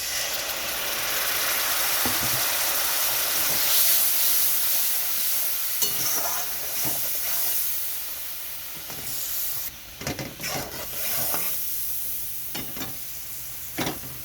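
Spice paste sizzles in a pan after a splash of water, for a shrimp and green banana curry, giving a loud, continuous hiss with occasional stirring scrapes and clacks as it cooks down.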